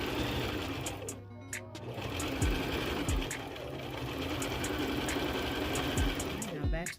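A sewing machine stitches continuously at a steady whirring pace, briefly pausing and changing as it reverses for a back stitch near the end, with faint clicks layered over the hum.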